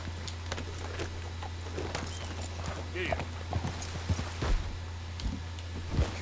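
Irregular hoof clip-clops of a horse walking in the video game Red Dead Redemption 2, moderately close, over a low steady hum, with scattered knocks.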